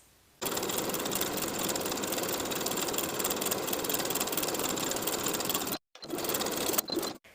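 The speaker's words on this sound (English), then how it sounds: "from the wrong side, I'll sew a zigzag stitch along the raw edges all the way around" A sewing machine runs a zigzag stitch along raw fabric edges in a long continuous buzzing whir, stops briefly, then starts again for a short final burst, close and with no voices.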